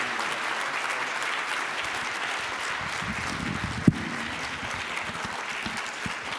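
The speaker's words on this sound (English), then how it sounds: "Let's give him another round of applause." Audience applause at a Rotary club meeting honoring a Navy captain, steady broadband clapping from a room of people throughout, with one sharper knock partway through.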